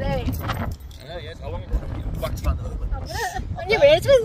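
A bunch of keys jangles close by in a short metallic rattle, mixed with voices talking and a faint car or road hum in the background.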